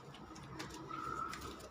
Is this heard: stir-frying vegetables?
no